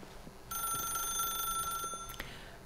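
A telephone in the video game The Stanley Parable rings with a bright, electronic bell tone, one sustained ring burst of about a second and a half, close and clear over a quiet room.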